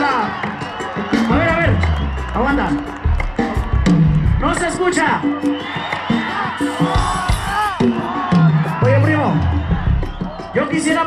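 A live concert crowd at a show cheers, whoops and claps loudly. Shouting voices rise over the noise throughout.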